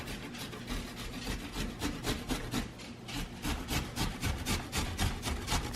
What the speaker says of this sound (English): Just gonna grate this guy up.